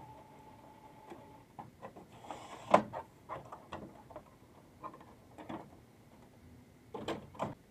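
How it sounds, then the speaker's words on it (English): A Canon Maxify MB2720 inkjet printer resets after a cartridge replacement, giving quiet mechanical clicks, ticks and soft whirring knocks at irregular intervals, close and faint, with no talking. "the printer is going to clean the heads automatically once you put in a new cartridge"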